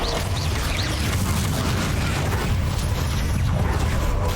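Bombarda and Confringo spell explosions in the video game Hogwarts Legacy, a dense, loud stretch of rumbling blasts and crashing impacts that barely lets up.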